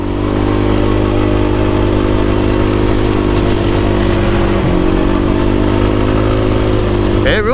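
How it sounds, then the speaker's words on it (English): A 2021 Kawasaki Brute Force 300 ATV engine drones loud and close, holding a steady mid-range pitch while the tires spin, then dips briefly and revs back up. "then I'm getting the mid-range, and then, yep, just spins the tires all throughout here."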